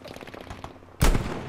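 Gunfire in the video game Battlefield 5 bursts in suddenly and loudly after a quieter stretch of in-game ambience, then sustains as a dense crackling volley for the final half second.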